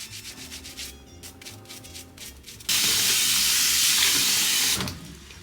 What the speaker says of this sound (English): I'm just giving these carrots a good scrub